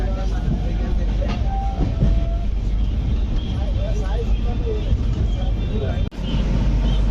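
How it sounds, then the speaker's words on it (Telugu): A passenger train pulling away from Tenali Junction gives a loud, steady rumble with faint clatter, broken by one brief sharp dip near the end. "తెనాలి జంక్షన్ నుండి అయితే ట్రైన్ అయితే స్టార్ట్ అయిపోయింది"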